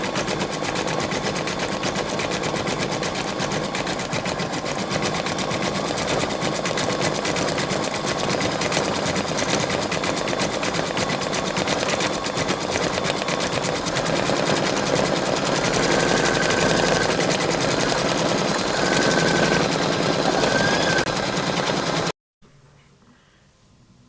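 A Brother Innovis 2800D embroidery machine stitches in a fast, even, continuous mechanical patter for over twenty seconds, loud and close, before stopping abruptly and leaving faint room noise.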